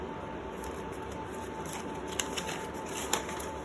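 Paper cards pulled from the box of a GAN 11M Pro 3x3 speed cube, faint close rustling and shuffling with a couple of small crisp clicks, no voices.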